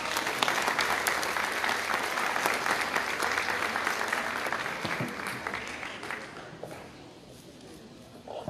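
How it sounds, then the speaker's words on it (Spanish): An audience claps after a dance group's performance at a university anniversary event in Zamora, Michoacán. The applause is dense and sustained and slowly thins out toward the end. "pido lo que es un fuerte aplauso"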